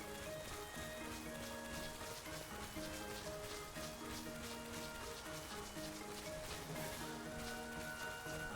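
Rain falls steadily in the video game Final Fantasy XII, a constant patter layered with sustained musical tones from the game's soundtrack, with no voices.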